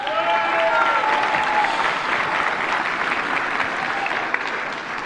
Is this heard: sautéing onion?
no